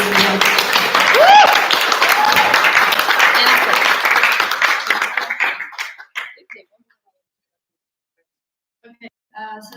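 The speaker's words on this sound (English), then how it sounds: "Please give a big round of applause for these people who have been working so much on this." Audience applause at an ESN Lithuania student network event, a full loud round of many clapping hands with scattered cheers and a whistle, lasting several seconds before cutting off abruptly into near silence with a little noise afterward.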